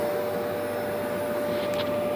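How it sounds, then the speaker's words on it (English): A shop vacuum running steadily in a garage workshop during a Range Rover Classic brake caliper rebuild, a constant loud airy whine with a steady tonal hum, alone without talk. "vacuum's on"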